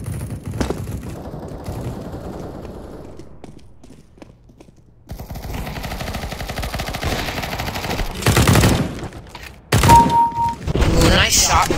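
Gunfire in the video game CS:GO comes in bursts of rapid shots and loud thumps, with a quiet lull midway before heavier firing returns, and a voice speaks briefly.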